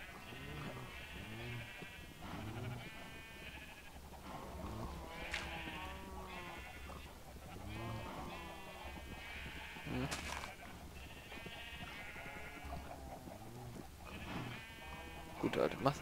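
Minecraft sheep bleat several times in a game, short wavering cries scattered across a continuous stretch of talking and game background sound.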